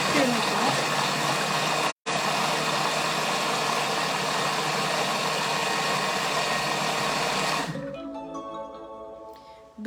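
A kitchen mixer blends speculoos dessert cream at speed 4.5, a loud steady whir running for about eight seconds with one brief cut, then stopping and leaving quieter clinks behind.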